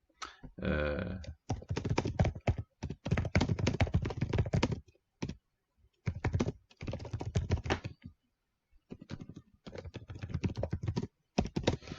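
Typing on a computer keyboard while writing a LinkedIn message: close, bursts of rapid clicking keystrokes separated by short pauses, with no talking.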